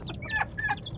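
Young bantam chickens give two quick, close clucks over faint background noise.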